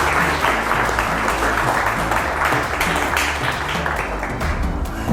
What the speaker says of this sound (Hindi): तो हमारी ऑडियंस के लिए जोरदार तालियां हो जाए।